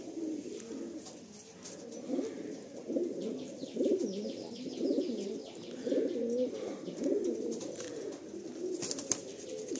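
Pigeons coo continuously in a loft in Kolkata as a pair is released, a dense rolling chorus of low throaty calls with occasional chirps and faint wing flaps, close and steady with no talking.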